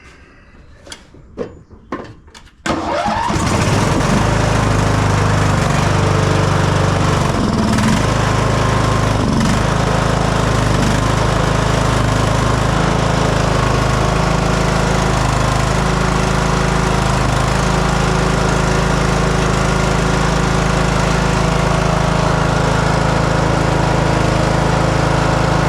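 A Poulan riding mower with a Briggs and Stratton 14.5 hp engine, freshly fitted with a new head gasket, clanks a few times, then starts and runs steadily with a loud, close, continuous drone.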